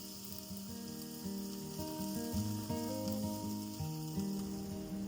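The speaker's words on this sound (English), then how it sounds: "Form little patties, oh what a sight. Sizzling away till they're golden brown." Steady sizzling from patties frying in a pan, a continuous crackling hiss with soft background music playing over it.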